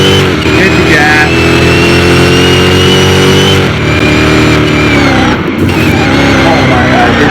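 A Hellhawk SUV built to around 2,400 horsepower accelerating hard in a mile drag race: a loud, close engine roar rising steadily in pitch, with a brief dip as it shifts gears.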